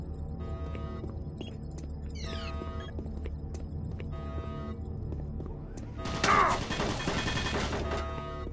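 An automatic turret in the game Doom 3 fires a sudden rapid burst of shots late on, following a stretch of steady droning game ambience with scattered clicks.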